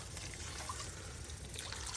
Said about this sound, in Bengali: এই যে আপনার মুরগির মাংস এখন পানি দিয়ে দেওয়া হলো